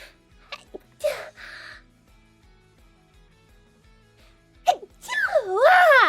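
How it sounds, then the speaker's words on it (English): A person sneezing in a few short, sharp bursts, the loudest near the end, with brief voiced sounds and breathy talk around them. "I need to sneeze."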